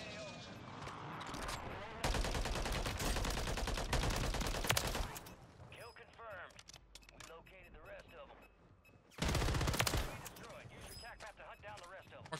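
Assault rifle fire in a Call of Duty match on Rebirth Island: loud, close automatic bursts, one long volley followed by a quieter gap with scattered distant shots, then another heavy burst, with game sounds underneath.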